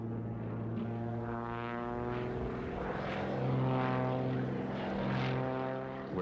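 A propeller airplane drones steadily overhead during a wing-walking stunt, its engine hum loud and continuous and swelling briefly as it passes nearest, with no voices.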